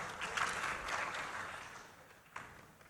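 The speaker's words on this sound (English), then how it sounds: "Please give a round of applause to Pak Budiman Saleh." Audience applause at an industry panel discussion, a diffuse wash of clapping that fades gradually over a few seconds and ends with one brief sharper burst.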